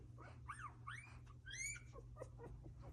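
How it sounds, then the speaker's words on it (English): Newborn puppies in their first week whimpering, several thin rising and falling squeaks and yips in quick succession, close by over a low steady hum. "here's some puppy sounds for you to start your day"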